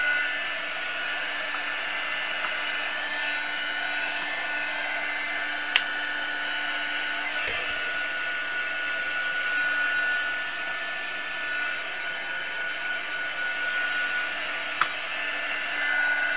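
A hair dryer blows steadily on a Brusho watercolour painting, a constant close whirring hum with a high whine, broken only by a couple of faint clicks, and no talking.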